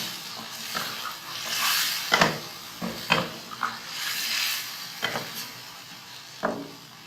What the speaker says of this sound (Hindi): अब मसाले में चिकन को अच्छी तरह से हमने भूनना है।